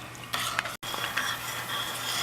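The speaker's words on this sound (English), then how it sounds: "you need to continuously stir your fudge so it doesn't get scorched" A spoon stirs boiling fudge in a pot, a continuous scraping, bubbling hiss with repeated spoon strokes against the pan and one brief dropout, heard close up with no talk.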